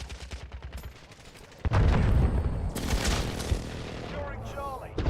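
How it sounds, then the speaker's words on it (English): Explosions from an enemy precision airstrike in a Battlefield game burst in loudly partway through, a dense rumbling roar with sharp cracks layered over game sounds and brief voice chatter. "Enemy precision airstrike."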